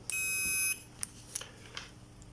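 A multimeter set to continuity gives one high, steady electronic beep lasting under a second, then a few faint ticks and clicks from probes touching an inverter welding machine under repair; no one speaks.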